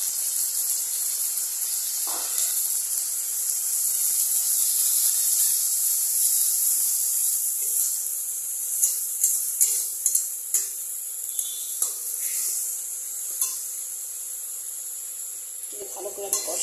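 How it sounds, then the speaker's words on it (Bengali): Onion, garlic and ginger paste sizzles steadily in a hot pan while being cooked down for Bengali prawn kosha, and light clicks of stirring grow more frequent toward the end. "এবার আমি যেখানে পেস্ট করেছিলাম পেঁয়াজ, রসুন, আদা, সেটা এখানে ঢেলে দিচ্ছি।"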